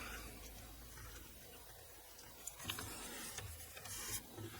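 Paper trimmed to size for a hybrid folio journal: a faint, steady rasping slide of the cutter across the sheet, with a few soft clicks toward the end.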